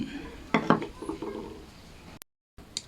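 Plastic front frame of an electric fan fitted back into place during a switch repair, giving several sharp clattering knocks and taps close by, then a brief silent gap followed by one more click.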